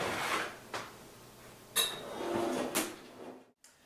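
Clanks of a pan and an oven door or rack, with a few sharp knocks and a brief metallic rattle, as a salad pizza goes into an oven set to 375 degrees, close and fairly quiet with no talking.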